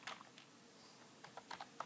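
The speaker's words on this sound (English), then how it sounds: "go to your terminal and type sudo apt-get install" Keystrokes on a computer keyboard as a terminal command is typed, a few light scattered taps followed by a quicker cluster of clicks near the end, close and quiet.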